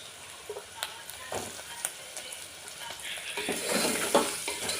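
Onions frying in oil get potatoes added, making a soft, close sizzle with a few clinks and stirring scrapes. The frying swells louder and hisses more brightly in the second half.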